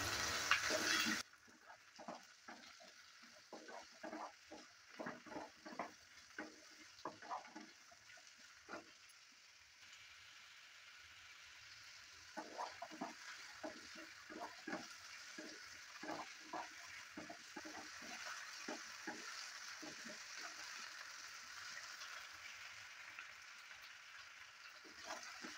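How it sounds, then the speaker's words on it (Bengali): Potatoes frying with dried shrimp in a pan for a chingri shutki charchari, stirred with a utensil: repeated scraping clicks and stirring strokes in bursts over a steady, soft sizzle, close by with no talk. "আলুটা দেওয়ার পর ভালো করে আবারও নেড়ে চেড়ে দিচ্ছি।"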